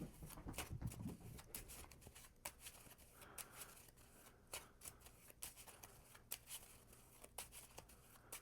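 A deck of cards is shuffled during a Marvel Champions tabletop game, the cards riffling and tapping in quick, crisp bursts, close and fairly quiet, with brief pauses between runs.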